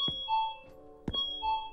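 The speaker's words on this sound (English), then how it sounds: "What is that loud banging, bro?" Two heavy, dull thuds land about a second apart, banging on a door in the horror game The Convenience Store, set against a steady electronic hum and faint tonal ringing.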